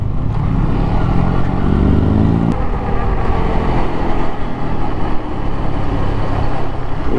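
Off-road motorcycles, a Yamaha MT450 and a Honda CRF250, ride a rough trail in Bulacan; a steady, loud engine drone fills the whole stretch, with a rising revving tone that cuts off partway through.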